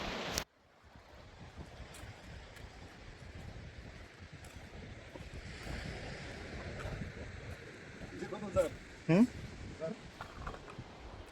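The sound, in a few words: roaring sea waves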